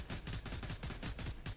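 A shooting machine trap in a video game fires a rapid, continuous string of mechanical shots, steady and dense for under two seconds.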